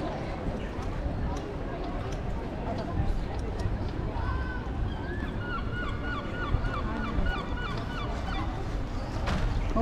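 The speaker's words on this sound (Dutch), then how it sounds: "Hoor je de vogels?" Forest birds calling in a sensory woodland park, with scattered chirps and whistles rising through steady background noise in the second half, faint and distant.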